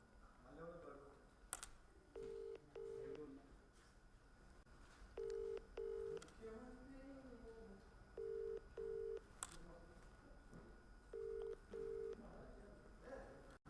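A telephone redials after a dropped call, sending four separate bursts of paired touch-tone beeps at a steady pace over faint background hum, with no talking.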